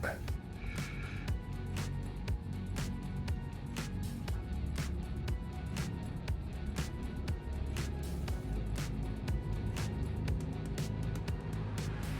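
A Buick Envista with a 3-cylinder engine climbing a mountain road on light throttle gives a low, steady engine drone with road noise, accompanied by scattered clicks and a person talking.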